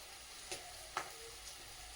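Spices and cumin paste frying in oil, a faint steady sizzle with a few soft stirring clicks, quiet and close with no talking.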